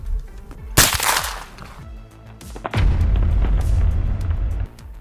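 A gunshot fired through a record 25-yard-long suppressor makes a sharp boom, then a second heavy blast follows with a long rumbling roar that sustains for a couple of seconds before cutting off.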